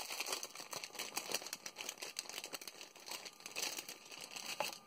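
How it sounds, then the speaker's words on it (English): Plastic packaging around flamingo swizzle sticks crinkles and rustles continuously and up close during a craft subscription box unboxing, with no talking. "But these are the swizzle sticks. Let's see, watch, sorry for the crinkling."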